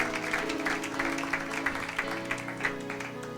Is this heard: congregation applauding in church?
yes